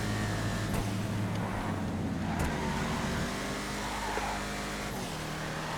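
An Arbiter GT car driving in a video game, its engine droning loudly and steadily with shifting pitch as it accelerates. A couple of sharp knocks break through along the way, and no voices are heard.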